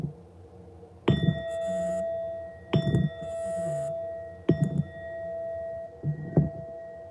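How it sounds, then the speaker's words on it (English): A bell sound effect for joining a livestream chimes four times at regular intervals of about a second and a half. Each clear, ringing strike sustains a bright tone between hits, close and alone. "You get a bell for joining the stream."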